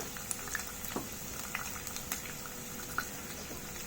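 Cumin seeds, fenugreek seeds and crushed coriander roasting in a hot pan, giving a faint, steady sizzle with scattered small pops and crackles throughout.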